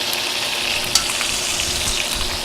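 Sausages fry in a small pan with a steady, close sizzle and crackle, and one brief utensil clink partway through.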